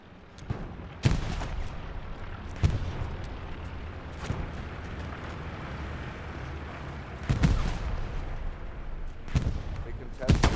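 Gunfire in the World War II shooter Hell Let Loose, with several sharp, loud shots and bursts spaced across a continuous rumbling battle backdrop.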